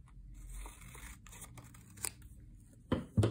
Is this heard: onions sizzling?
no